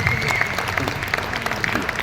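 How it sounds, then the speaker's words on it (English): An audience at a company business presentation claps together, a dense, steady patter of many hands that holds at an even level for the whole stretch, with faint voices mixed in. "Please give me a round of applause"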